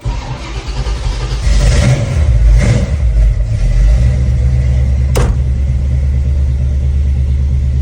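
A 1960 Ford F-100 Stepside restomod fires up from inside the cab, the engine catching with a loud rev before settling into a steady, close, deep rumble.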